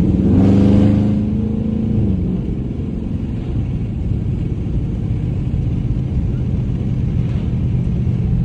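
A Dodge Charger R/T with a 5.7 engine cruising on a highway, a loud steady interior drone and road rumble, with a brief rise in engine pitch at the start before settling into a constant hum.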